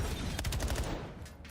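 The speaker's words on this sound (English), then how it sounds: "So far, it's a lot of gunfire." Rapid gunfire rattles in a Call of Duty League match, several quick bursts of automatic shots fired at a moderate distance, fading slightly toward the end.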